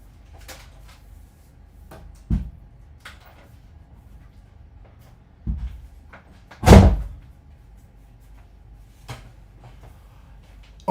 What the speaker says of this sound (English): I just need to open the door.